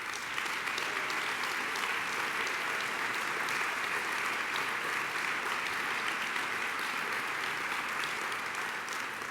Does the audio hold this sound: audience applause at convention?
yes